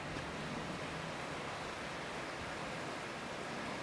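Steady broadband rush of water flowing at Breed Sluice near Rye, an unbroken, moderately quiet wash with no voices and no change in level.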